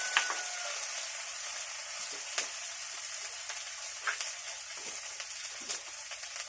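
Ginger garlic paste frying in a pan gives a steady, close sizzle throughout, broken by occasional soft stirring scrapes, with no talking.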